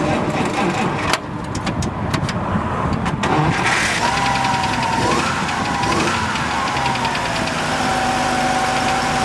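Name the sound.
1950 Dodge pickup Hurricane straight-six engine starting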